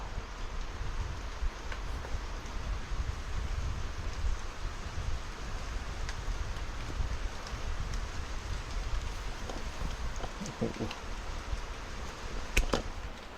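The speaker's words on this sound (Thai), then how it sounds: "ได้ยินเสียงฝนไหมครับ" Rain approaches through a forest, a soft continuous hiss of drops on leaves with distant wind and a few faint taps and knocks near the end, heard alone without talk.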